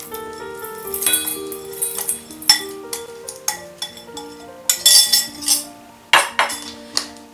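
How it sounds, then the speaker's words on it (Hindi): Chaat masala spices going into a jar at home, a run of light clinks and taps of metal and glass, close and crisp, with small irregular knocks throughout. "अब हम मसालों को जार में डालेंगे।"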